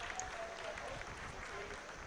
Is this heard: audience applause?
yes